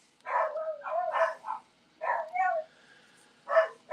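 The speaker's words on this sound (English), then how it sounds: "if you can hear me over the barking dogs down the hallway" Several dogs bark down a hallway in short bursts, a few rapid yaps at a time separated by pauses, sounding somewhat muffled and at a moderate distance.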